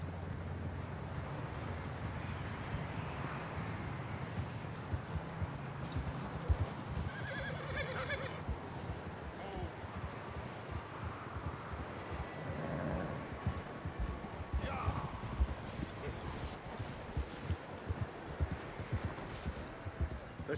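In Red Dead Redemption 2, a horse whinnies and its hooves clip-clop over a low outdoor ambience. The sounds are faint and fairly distant, with occasional soft rustles and no speech.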